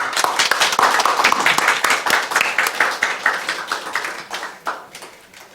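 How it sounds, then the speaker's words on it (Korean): A church congregation at a Sunday service claps for the children, with many hands beating in quick, loud, rhythmic unison before the clapping thins and fades toward the end. "우리 아이들 박수로."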